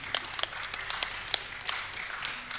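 Brief, sparse clapping from a small audience, thanking the tech person who ran the evening's event; a handful of scattered claps sound close, with no voices over them.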